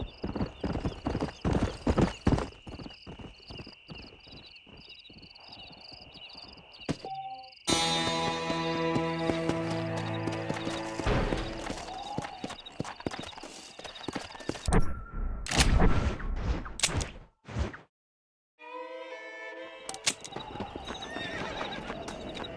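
In the video game Red Dead Redemption, hooves clip-clop at a brisk rhythm, then horses neigh and whinny loudly amid clattering and scattered bangs, with brief moments of near silence.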